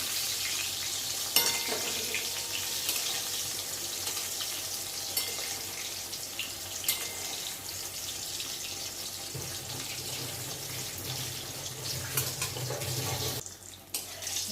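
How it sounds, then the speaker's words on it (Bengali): Eggplant slices frying in hot oil, a continuous soft sizzle at moderate distance that stays even throughout, with faint clinks and a brief dip near the end. "দেখুন দু পিঠ ভালো করে ভাজা হয়ে গেছে"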